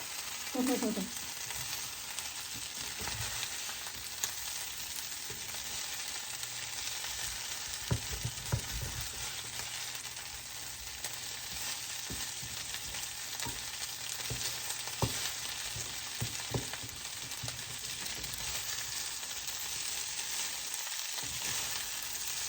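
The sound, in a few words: okra frying in a hot skillet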